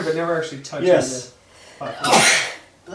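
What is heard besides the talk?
sneeze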